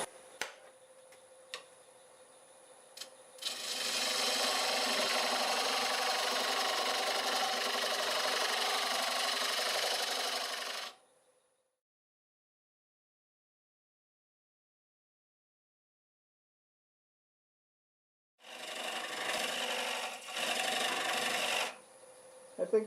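Wood lathe spinning at 730 RPM while a half-inch bowl gouge cuts into the workpiece, giving a steady, loud scraping roar for several seconds, then silence, then a second burst of cutting with brief pauses.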